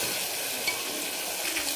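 Tomato puree frying in oil for a chole dish, a steady, dense close sizzle that continues evenly throughout with faint stirring ticks.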